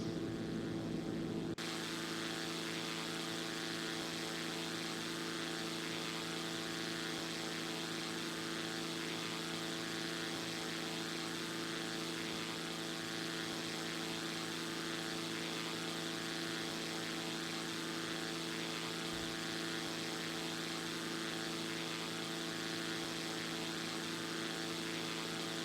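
A Zlin Z-142 propeller aircraft's engine drones loud and constant in X-Plane 11, a steady buzzing hum with layered harmonic tones that holds unbroken for the whole stretch, without any talking.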